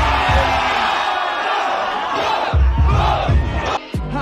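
A crowd of supporters at a Brazilian rap battle yells and whoops in a loud, dense roar that holds steady, with a beat thumping underneath and surging shouts near the end.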